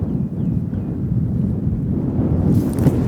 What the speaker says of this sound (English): the wind's blowing so hard I can't see real good